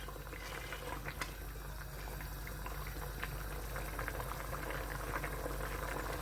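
Soft bubbling and gentle popping of a thick prawn curry simmering in a karahi pan, steady and low, with faint kitchen background noise.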